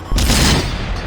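A tank cannon fires in World of Tanks with a British tank, one sharp loud boom that rolls into a long rumbling decay.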